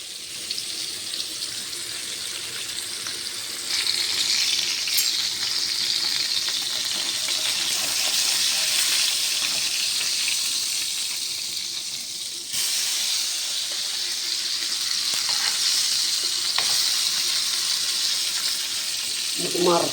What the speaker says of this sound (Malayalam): നമുക്കിവിടെ ഇത്തിരി മീൻ വറുക്കാം